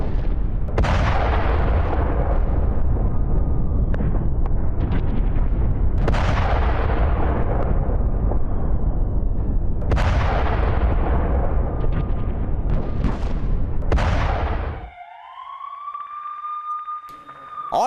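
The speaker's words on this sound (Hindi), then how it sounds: "जहां के नुसैरत कैंप में भीषण बमबारी हुई" Heavy bombardment at Nuseirat camp, Gaza: a handful of loud, deep blasts roughly every four seconds, each rumbling and fading, then a rising siren-like wail takes over at the end.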